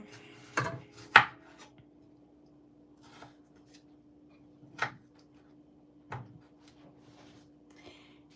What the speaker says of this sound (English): we're gonna cut up 3 tomatoes, 3 Roma tomatoes for the pico